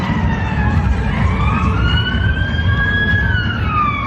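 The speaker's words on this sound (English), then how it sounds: "There's another police siren." A police car siren wails on a town street, its rising and falling tone sweeping continuously over a low rumble of traffic, fairly close and loud.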